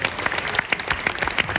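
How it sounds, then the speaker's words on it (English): An audience claps in steady applause at a product demonstration, with individual hand claps standing out against a dense, continuous patter at moderate loudness. "give them a round of applause, guys."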